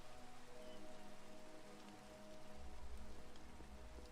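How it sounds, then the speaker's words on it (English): Rain falling in the Minecraft video game, a steady faint hiss of pattering drops that runs throughout with no voices over it. "Oh yeah, it's raining."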